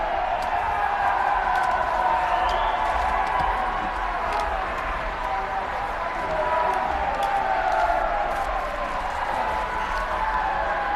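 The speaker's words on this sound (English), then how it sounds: "Clapping continues." Sustained applause and crowd noise from the public gallery of the House of Commons, a dense, steady wash of clapping lasting throughout with murmuring voices mixed in.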